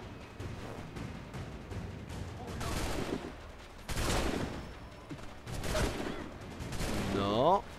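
Bursts of gunfire in Assassin's Creed 3, scattered shots and short volleys of varying loudness over several seconds, with a faint voice underneath in places.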